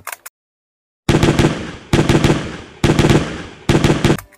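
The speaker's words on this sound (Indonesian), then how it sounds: "Yang ini ada M16." A toy M16 gun fires in four loud rapid bursts of clattering shots, each lasting under a second with short pauses between, close up and after a brief silence.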